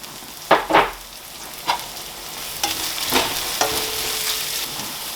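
A handful of cabbage stirred and fried for cheese kottu on a hot pan, with several sharp scraping stirs and clanks over a steady sizzle, loud and close with no talking.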